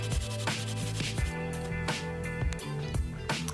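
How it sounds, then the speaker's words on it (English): Sanding a welded plastic dustbin lid smooth after repairing a crack, a close scraping rub with bursts of abrasion against a hum of background noise. "and then sanding it smooth when it's cooled"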